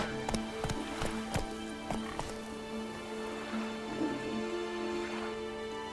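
A horse in The Witcher 3 video game gallops with quick repeated hoof clops, close and clear at the start before settling into a softer rhythm.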